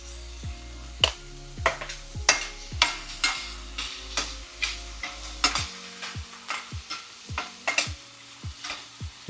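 Vegetables being sautéed in a pan, with repeated sharp scraping strokes of a spoon at a steady rhythm over a soft sizzle, close and clear with no talk.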